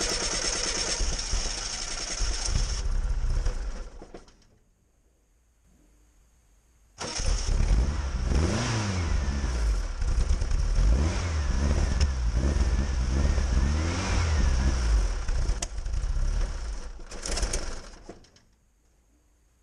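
A Volkswagen Beetle under restoration, fitted with fuel injection, cranks and fires up, then runs and revs loudly and roughly for about ten seconds before cutting out, close by with no talking.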